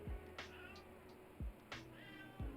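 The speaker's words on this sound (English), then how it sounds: "Cat, not right now." A cat meows several times in short, separate calls spaced across a quiet indoor background, each one close and clear, with no talking.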